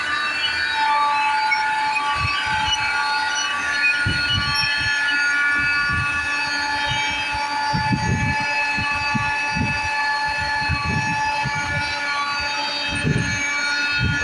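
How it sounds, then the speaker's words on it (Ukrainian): Steady high-pitched mechanical whine with several tones from a seed drill turbine with a faulty bearing, over a constant machinery drone and irregular low rumbling thumps. "нас досить виє турбіна, там неправильний підшипник, тому такі звуки"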